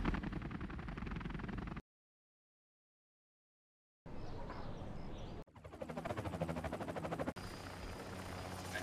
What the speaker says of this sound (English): Hypersonic ready for takeoff.